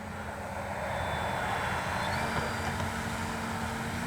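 A Flex RV8 10E G2 radio-controlled model airplane coming in to land with its flaps down, a steady continuous electric motor and propeller drone held at an even level throughout, with no pauses or voices.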